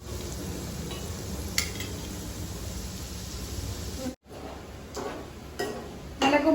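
Pieces of mutton frying in hot oil for a pickle, a steady close sizzle running throughout, with a brief cut near the middle and a few utensil scrapes toward the end.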